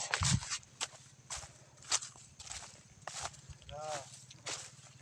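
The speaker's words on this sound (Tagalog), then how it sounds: "Saka may nakaharang pang kabayo guys." A horse on a rural farm road clip-clops with irregular hoof strikes, moderately near, over a low rumbling background, while a person talks and a brief higher tonal sound rises near the end.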